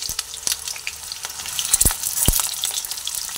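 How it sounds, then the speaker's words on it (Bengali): Potatoes frying in hot oil in a wok give a close, bright crackling sizzle with a couple of sharp utensil knocks, no voices. "তেলটা গরম হয়ে গেছে, তেলের মধ্যে আলুগুলোকে দিয়ে দিচ্ছি"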